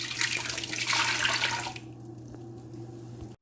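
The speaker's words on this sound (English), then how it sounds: "I'm just going to take this and pour this in my container here." Four cups of watermelon puree pour into a container for jam, a steady wet gushing stream for about a second and a half that then drops to a quieter trickle and stops.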